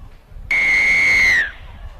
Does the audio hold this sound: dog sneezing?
no